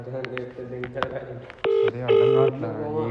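A mobile phone dials a call late at night: a quick run of short keypad tones, followed by two longer steady beeps of a ringing tone, with a voice talking over the start.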